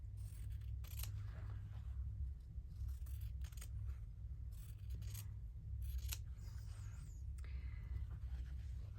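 Scissors cut through cotton fabric in a series of quiet, crisp snips spaced unevenly over several seconds, close but faint above a steady low hum.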